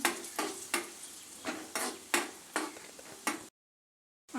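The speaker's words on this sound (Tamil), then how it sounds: "இப்போ நெய் நல்லா காஞ்சிருச்சுங்க நம்ம முந்திரி திராட்சை சேர்த்து நமக்கு நல்லா கலந்து விட்டுக்கலாம்" Cashews and raisins fry in ghee for tomato jam as a spoon stirs them in regular strokes, about eight rhythmic scrapes over a light sizzle, close and fairly soft, before the sound cuts to silence.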